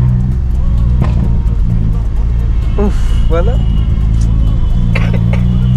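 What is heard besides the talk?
loud Honda Accord car being driven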